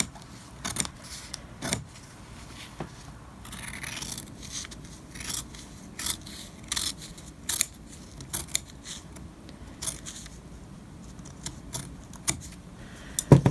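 Scissors snip fabric rectangles for a face mask with sharp, close clicks. The cuts come in an uneven series with quiet gaps between them, and no one talks.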